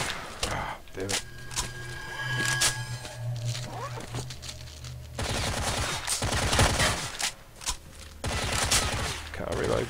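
Gunfire from a weapon in the video game STALKER, with bursts of rapid shots in clustered volleys across the clip, loud and close, alongside game ambience and tonal effects.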